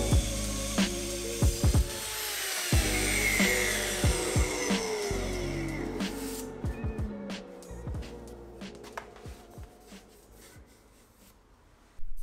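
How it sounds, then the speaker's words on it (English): A drill whines into the wood of a salvaged door, its pitch slowly dropping as it bores, mixed with repeated sharp knocks and clicks; the drilling fades toward the end. "So I decided to drill that out and hammer in a glued up dowel"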